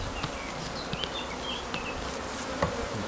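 Honey bees around a hive full of capped honey and queen cells, giving a steady, soft insect buzz with a few brief louder passes of individual bees close by, no talking.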